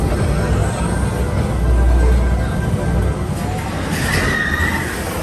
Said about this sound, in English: The sound you hear are the cars from Space Mountain